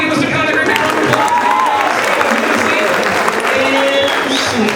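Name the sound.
applause for Mr. Conner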